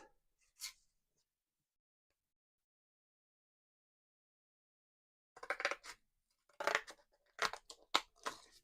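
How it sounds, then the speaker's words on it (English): Scissors snip through a piece of card in a burst of crisp, close cuts, several sharp crunchy snips in quick irregular succession after a long quiet pause with one brief earlier click. "I use the scissors."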